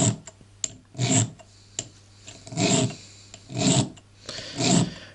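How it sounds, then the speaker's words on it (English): A sharpening stone files the sear nose of a Smith & Wesson revolver in several slow, close rasping strokes with short scratchy pauses between them. "You will now get the proper angle and sharpen the sear nose."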